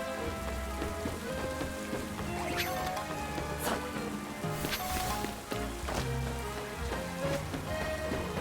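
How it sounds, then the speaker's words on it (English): Steady rain pours in Pokemon Legends Z-A, a dense continuous patter of drops on surfaces with occasional louder splashes, filling the whole stretch at a constant level. "it's raining a lot now that I've evolved my Goodra"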